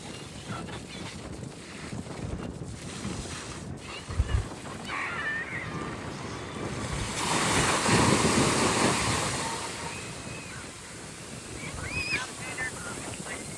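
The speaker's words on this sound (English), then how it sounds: "This is my first time seeing the ocean in years." Ocean waves and surf wash in at Santa Cruz, California, a continuous rushing roar that swells to a louder surge midway, mixed with wind buffeting the microphone.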